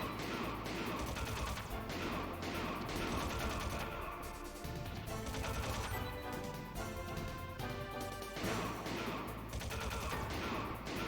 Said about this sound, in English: I'm going to soften the guards by putting some bullets on him